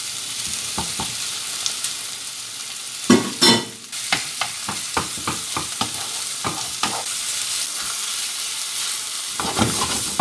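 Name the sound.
pork chops and onions frying in a pan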